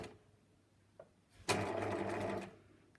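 Bernina sewing machine fitted with a number 24 free machine embroidery foot and a wooden hoop, sewing elastic shirring: a short, close burst of rapid stitching that starts abruptly and runs for about a second, after a faint click.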